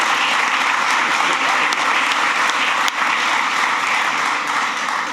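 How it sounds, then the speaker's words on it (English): Large audience applauding at an outdoor groundbreaking ceremony for the new LaGuardia Airport, a dense, steady roar of clapping that holds loud and even for about five seconds. "Let's give him a round of applause."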